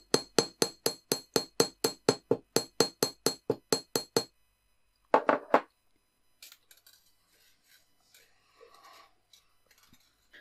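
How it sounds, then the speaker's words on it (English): Small riveting hammer striking a wire loop on a coin bead wire-wrapped pendant: a rapid run of about eighteen bright, close metallic taps, then a brief clatter and faint handling noises as the work is set down. "this is where a small riveting hammer like this really does help"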